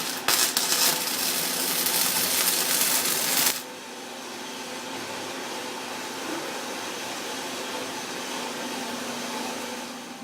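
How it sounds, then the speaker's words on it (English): Welding thin steel tubing for a grape trellis: a loud crackling, hissing arc for about three and a half seconds, then it stops, leaving a steady background hum. "That's tubing, so the welding goes really quick."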